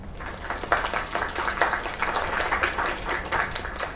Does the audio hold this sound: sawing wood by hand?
no